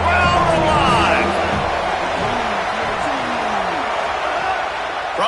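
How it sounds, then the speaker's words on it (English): A stadium crowd at a college football game between Fresno State and USC roars in a dense, sustained wash of cheering during a third-down red-zone play, with a commentator talking over it. "Crowd alive."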